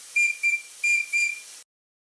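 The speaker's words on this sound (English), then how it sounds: "these really nice little whistle and valve assemblies. They work well. This is on quite a low pressure." A small PM Research model steam whistle on a valve assembly, run at low pressure, gives four short, clear whistle toots in a close, evenly spaced series over a steady soft hiss, then stops abruptly.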